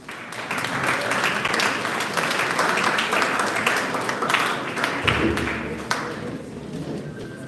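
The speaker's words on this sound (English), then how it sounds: "Can you please clap for him?" Sustained audience applause at a Commission on Disability event held for World Toilet Day by the Ministry of Health and WASH Commission, steady dense clapping for several seconds with some sharper claps near the end.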